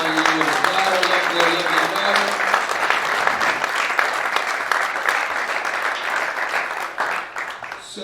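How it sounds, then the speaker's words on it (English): Loud, close applause from a blues concert audience at a village theatre, with a faint musical tone early on, clapping holding steady for several seconds before easing slightly at the end. "Give her a nice round of applause."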